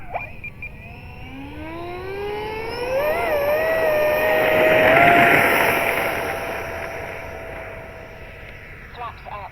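An FMS Futura RC model jet takes off, its electric ducted-fan whine rising in pitch as it speeds up and climbs. The whine swells to a loud peak at mid-clip, then fades as the jet pulls away.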